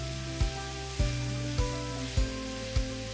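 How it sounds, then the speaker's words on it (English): Mushrooms and sliced onions frying in hot oil in a pan, a steady sizzle broken by regular stirring knocks about every half second, close by with no talk. "I'll heat up my oil, and then we'll add our mushrooms, and we'll cook those down with our sliced onions"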